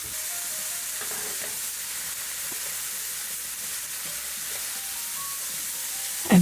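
Chopped bacon fries in a wok over medium-high heat, a steady broadband sizzle holding evenly throughout, ending with a brief louder knock.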